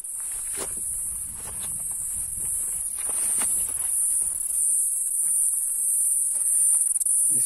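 A continuous shrill cricket chirring in the Brazilian Cerrado, loud and steady throughout, with faint rustling and soft footsteps underneath.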